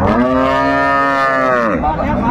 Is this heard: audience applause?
no